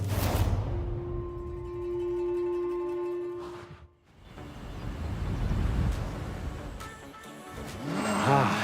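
A Mazda MX-5 driving in the video game Forza Horizon 6, with engine revs rising and dropping through gear changes, a brief cut-out, then renewed acceleration and tire noise, steady and close.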